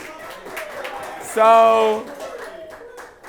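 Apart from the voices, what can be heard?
audience clapping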